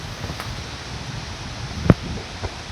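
Strong wind blowing through a mango tree in a village before rain, a steady rustling rush of leaves with a couple of brief gust thumps on the microphone.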